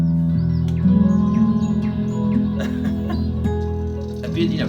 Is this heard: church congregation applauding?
no